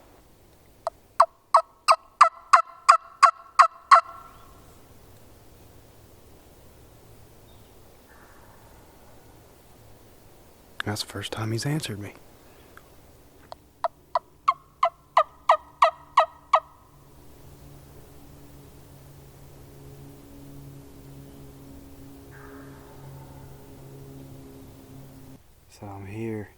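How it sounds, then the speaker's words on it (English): A wild Alabama turkey gobbles in bursts of rapid rattling calls, first clearly and then again after a pause, with a hunter speaking quietly in between and faint outdoor hiss throughout. "That bird is gobbling somewhere over here."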